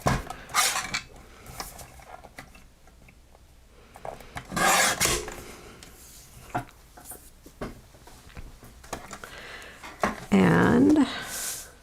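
Card being trimmed for a craft project, heard as a few scattered rasping cuts and rubbing scrapes at close range, with a louder sliding scrape near the end.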